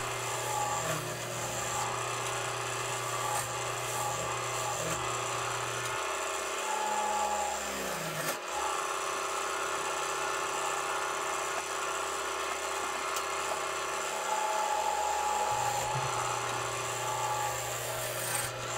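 Spindle gouge cutting a chunk of log on a wood lathe while turning a lamp shade, a steady scraping, rasping hiss over the continuous hum of the running lathe motor, close and unbroken, with no voices.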